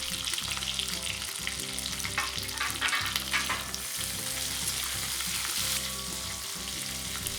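Chopped onion, capsicum and green chili stir-fry in a hot pan with a steady sizzle and crackle, and the rhythmic scrape of a spatula stirring at intervals, with no voices.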